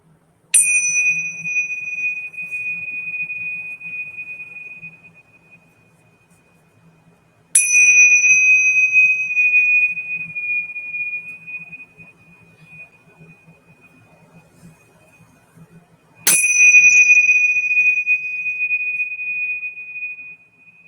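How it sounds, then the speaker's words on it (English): A small handheld bell is struck three times in a spiritual ritual, each clear, bright ring sounding alone and fading slowly over several seconds in a quiet room. "I've got my bell."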